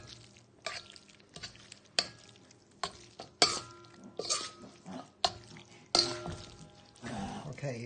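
Milk being stirred into homemade bread stuffing in a bowl, giving repeated wet, squishy stirring strokes with soft clinks against the dish, close and fairly quiet, in an irregular rhythm.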